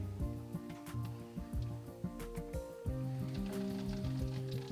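Kue tumpi cakes fry in tengkawang butter with a soft, continuous sizzle at low volume. Tonal musical sounds run underneath the whole time.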